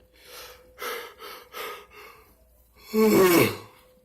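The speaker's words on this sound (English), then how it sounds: "I'm like yawning more than usual." A person yawning, with several breathy inhalations and exhalations followed by a louder, drawn-out voiced yawn near the end, close and alone.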